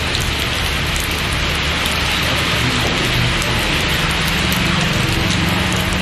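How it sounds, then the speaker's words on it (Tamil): Heavy rain pours over Perur, Mathampatti and Alandurai near Thondamuthur in Tamil Nadu, a loud, dense, steady hiss that runs unbroken throughout. "கனமழை பெய்ததால் இதமான சூழல் நிலவியது"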